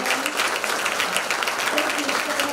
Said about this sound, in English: So let's give a round of applause to it.